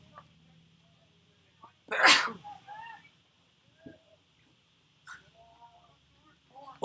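A single loud, close sneeze bursts out in a quiet room during a college baseball game broadcast, followed by brief soft speech.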